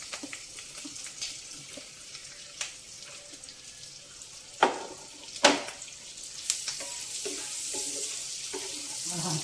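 Onions sizzle in a pan for a beetroot and chickpea fry, a soft continuous hiss punctuated by a few sharp clatters of stirring and utensil taps up close.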